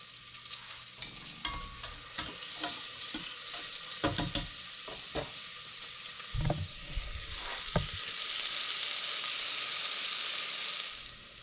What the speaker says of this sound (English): my butter is starting to sizzle, so I'm going to add my onions and let those saute